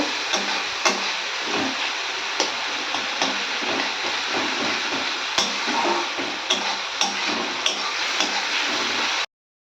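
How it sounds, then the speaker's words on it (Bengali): A spice paste of chili powder and turmeric powder mixed with water fries steadily in a pan, a continuous close sizzle broken by sharp, regular clicks and scrapes of stirring. "এবার এই মিক্সটাকে ভাজবো।"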